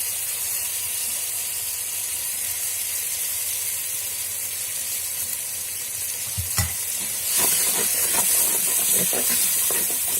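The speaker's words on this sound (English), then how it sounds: "We'll mix some curd." Curd being stirred into jackfruit biryani in an earthen pot, a steady hiss of sizzling and steam with a clatter of stirring strokes that grows busier and louder toward the end.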